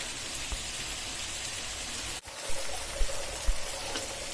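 Washed, chopped ilishi and bitter greens drop into a pot of boiling masoor lentil dal, over a steady watery bubbling hiss that breaks briefly midway and is followed by a few soft plops.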